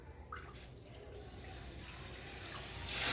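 Water pours steadily into a pan for kozhukattai dough, starting with a few splashes and building to a louder, continuous rushing stream near the end.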